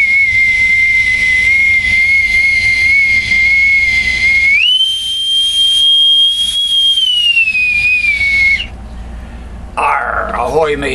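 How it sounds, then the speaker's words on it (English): An authentic bosun's whistle from Newport, Rhode Island, shrills in a long piercing pipe, stepping up in pitch midway, holding, then dropping before a brief warbling trill, loud and close with no talk over it. "I will pipe him aboard our progressive liberal starship with my authentic, from Newport, Rhode Island, bosun's whistle."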